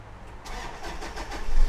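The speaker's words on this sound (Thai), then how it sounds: "เรามาลองมาสตาร์ทรถกันดู" A 2014 Toyota Fortuner 3.0 V 4WD diesel engine cranks and catches, then settles into a rising idle that swells toward the end, close and fairly loud with no talking.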